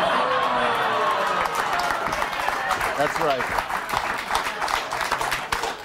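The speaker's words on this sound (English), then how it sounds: "They're clapping their own state's demise." Studio audience applauding across a TV news segment, steady crowd clapping mixed with some cheering, with a presenter's voice speaking briefly over it.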